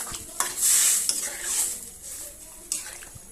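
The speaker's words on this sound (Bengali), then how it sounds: "এবার আমি ভালো করে নেড়ে নেব।" A fish and potato curry is stirred in a pot just after water has been poured in, giving a few scraping and clinking strokes of the spoon against the metal over a soft bubbling background, with no talking.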